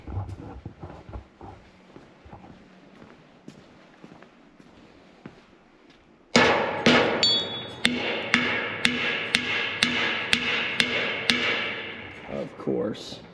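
Bolts being hammered out on a chisel plow: after a quieter stretch with faint knocks, a run of loud, sharp metal-on-metal hammer strikes lands at a steady rhythm, ringing close up.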